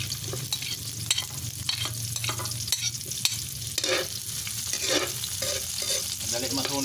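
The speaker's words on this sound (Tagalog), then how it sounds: "mainit na yung mantika. Magigisa na tayo." Ginger and onion sautéing in hot cooking oil for a Bicol chicken-in-coconut-milk dish, a steady close sizzle and crackle with stirring scrapes and a low background hum throughout.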